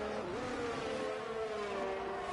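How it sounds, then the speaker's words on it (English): Formula 1 cars in F1 22 race through turn 13 at Bahrain, a single engine note sweeping up in pitch, dipping and holding a steady whine at moderate loudness. "Car shuffling their way through turn 13."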